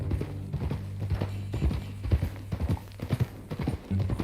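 Horse hooves clip-clopping in an irregular walking rhythm on the ground in Red Dead Redemption 2, close and moderately loud over a low hum.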